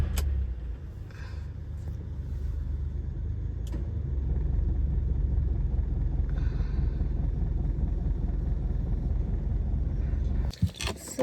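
A car rolls up with a steady, close engine rumble that holds for about ten seconds before a few sharp knocks at the end, with no talk.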